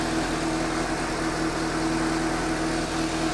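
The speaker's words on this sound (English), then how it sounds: "The engine noise itself, the rattle itself, is noticeably quieter." A Suzuki GSX-S750 motorcycle engine idles steadily with a faint mechanical rattle, a close, even hum with low tonal throb and no breaks.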